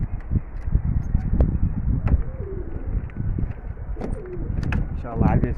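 Pigeons coo repeatedly at close range among a flock of loft birds, soft throaty calls rising and falling over a steady background of wingbeats and shuffling, with occasional sharper chirps.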